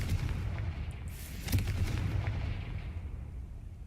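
Confringo fire spell blasting in Hogwarts Legacy, a video game: a booming, explosive whoosh near the start and a fiery burst around the middle, trailing off into a rumbling wash.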